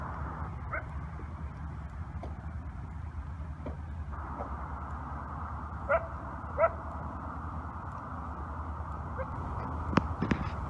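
Dogs bark and yip at a distance near Thomaston Dam, Connecticut, a few sharp, sparse calls over a constant low outdoor rumble, with a cluster of louder yelps toward the end.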